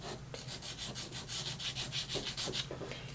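Soft pastel stick rubbed back and forth across paper, a steady run of close, dry scratchy strokes in a quick even rhythm, with no voices.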